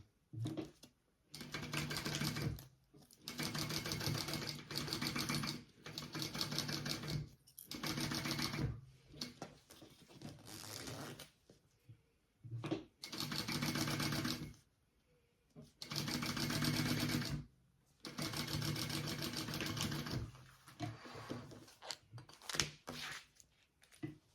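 A home sewing machine basting fabric for a sling bag, running in repeated bursts of rapid, even stitching that start and stop, with short quiet gaps between runs.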